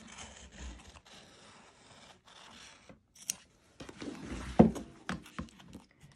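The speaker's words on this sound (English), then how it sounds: "cutting with your scissors right on top of your die line" Scissors snip and scrape through stabilizer along the die line of a 6x10 satchel bag, with irregular close cuts and rasping strokes that grow louder toward the end, with no talk.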